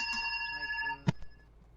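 A telephone rings through a player's microphone during a Fortnite match, a brief electronic ringing tone with a sharp knock right after it, while a voice talks faintly.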